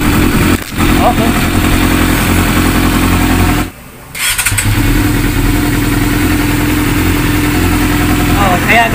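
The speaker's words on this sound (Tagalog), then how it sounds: "Ganyan ang pagiging ugali ng isang YCF na Yamaha 600." A Yamaha YZF600 motorcycle engine idles loud and close with a rough, uneven beat, its rpm hunting with the fuel sending-unit sensor unplugged, dipping briefly near the middle before recovering, with voices talking over it.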